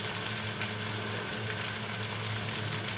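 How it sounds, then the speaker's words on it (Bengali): Ginger and garlic fry in hot oil in a home kitchen pan, a steady close sizzle that hisses evenly throughout with no voices. "আদা রসুন তেলের মধ্যে কিছুক্ষণ কষিয়ে নিয়ে আমি বাকি মশলাগুলো দিব"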